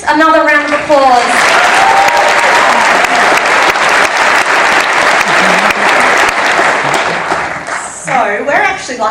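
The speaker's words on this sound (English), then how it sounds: "Another round of applause." An audience bursts into sustained applause, a dense wash of clapping lasting about seven seconds, with a person talking briefly before it starts and again as it dies down.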